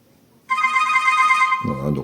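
A ringtone plays loudly from the single speaker of a Cubot Kingkong ES rugged smartphone, a bright sustained melodic tone starting abruptly, then a voice cuts in near the end.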